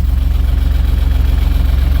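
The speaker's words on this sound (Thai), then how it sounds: "โอเคเดินชึ้นรถไถก่อน" A 4018SP tractor mowing grass in a small oil palm plantation, heard from inside its air-conditioned cab: a loud, close, low diesel throb pulsing in a fast, steady rhythm.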